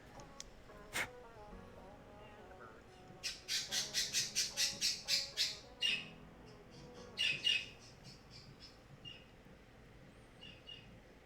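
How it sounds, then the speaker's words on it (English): Birds give a burst of loud, rapid squawks from nearby, a run of about ten sharp calls followed by a second shorter flurry, with quieter chirps before and after. "And the birds."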